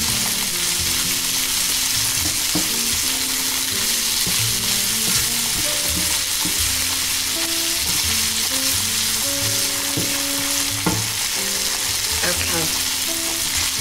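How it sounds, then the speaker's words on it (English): Shallots and sausage frying in a pan for a sausage and sweetcorn penne: a dense, loud, steady sizzle runs throughout, with a few light utensil knocks and a faint tonal hum beneath. "So our shallots are lovely and soft now. Our sausage is getting lovely and crispy"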